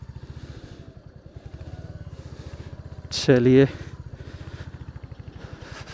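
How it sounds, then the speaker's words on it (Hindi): A Royal Enfield Hunter 350 chugs along an off-road path with a steady, rhythmic single-cylinder thump, while a rider's voice speaks briefly over the engine partway through. "कैपेबल तो है भाई ये बाइक, ऑफ रोड के लिए भी कैपेबल है"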